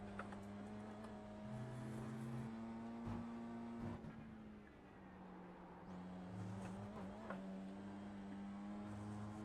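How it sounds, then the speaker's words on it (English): Engine of a BMW M2 G87 race car in iRacing, revving and accelerating with shifting pitch through gear changes, steady and close, fairly quiet overall with no talk. "I'm just able to slam the gas down in this thing"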